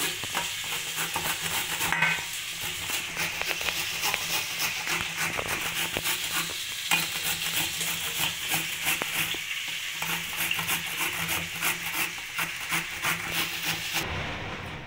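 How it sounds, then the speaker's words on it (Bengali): Steady, dense sizzling of bhola fish frying two at a time in hot oil, with crackles and pops running throughout, close and continuous, no voices. "আমি দুটো দুটো করে মাছ ভেজে নেব"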